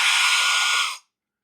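A Mera MHDU01 Bi-Ionic hair dryer running with its diffuser attached: a close, steady, loud airy whir for about a second before it cuts off cleanly into silence.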